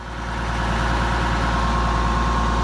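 A tractor engine idles steadily on a farm, a deep, loud, continuous diesel rumble with an even low throb, close by and without talk; the farm uses an International 560 and a JD 34 chopper for silage.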